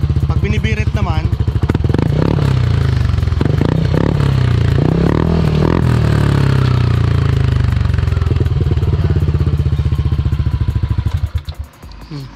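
A Yamaha Aerox 155 scooter engine runs loud and close, a steady rattling idle that rises into revving before cutting away near the end.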